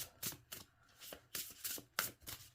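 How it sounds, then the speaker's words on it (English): Tarot cards are shuffled quietly in short repeated bursts of riffling and sliding, several quick rustles in an uneven rhythm, close and soft. "we're going to shuffle these up and have a look to see what card will come up"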